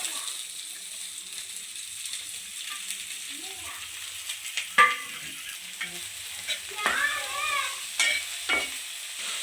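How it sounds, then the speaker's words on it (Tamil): Oil sizzling steadily in a pan as chopped onions fry, with a few sharper crackles and stirring clatters partway through; no one speaks. "அப்போ நறுக்கின வெங்காயம் போட்டுக்கலாம்."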